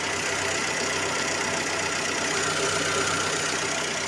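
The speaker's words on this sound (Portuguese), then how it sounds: "motor funcionando aí" Fiat Siena car engine idling after its solenoid was cleaned, a steady, continuous mid-pitched hum heard up close, with faint knocking texture and no talk over it.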